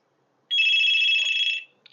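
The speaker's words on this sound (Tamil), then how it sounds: "ரிங்காக ஆரம்பிக்குது. நார்மலாக பழைய காலத்தில் இருக்கிற டெலிஃபோன்ஸ் எப்படி ரிங் ஆகுதோ அதே மாதிரி கேட்குது." A single burst of an old-style telephone ring sounds from a 4G LTE wifi modem phone on an incoming call, a loud, close, buzzy trill lasting about a second, then silence, with no talk.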